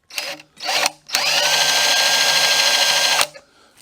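A power drill bores into a block of wood during a rail installation, heard as two short whirring bursts followed by a long, steady, close drilling run of about two seconds that then cuts off.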